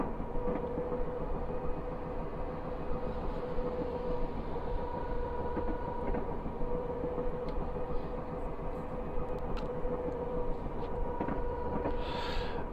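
Class 423 4-VEP electric multiple unit coasting in Train Simulator, a steady rolling rumble with rhythmic wheel clatter and a sustained motor hum, continuous and close, with no talk.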